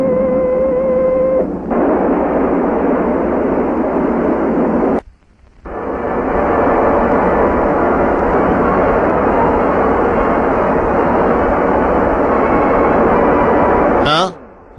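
A formation of military aircraft flying to drop paratroopers gives a loud, continuous roaring engine drone, cut by a brief break near the middle and then resuming steadily, like an old film soundtrack.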